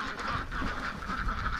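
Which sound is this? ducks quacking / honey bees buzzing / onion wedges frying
ducks quacking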